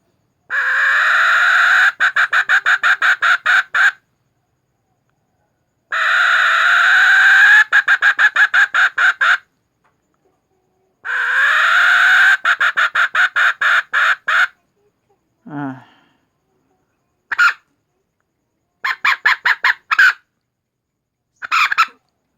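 A shrill whistled call imitating a female jungle fowl, repeated in long sustained notes broken by rapid stuttering pulses, with short silent gaps between bursts.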